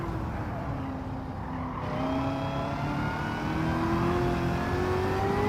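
Supercharged V8 in a 1978 Firebird in Gran Turismo 7, the engine note climbing steadily as it revs and accelerates, with a supercharger whine rising over the loud, continuous drone.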